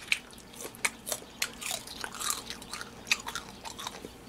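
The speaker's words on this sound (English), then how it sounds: "Hear that crunch?" Crispy fried chicken avocado taco being bitten and chewed, with sharp crunches and crackling chews at close range, repeated in an irregular rhythm with faint wet squishes between bites.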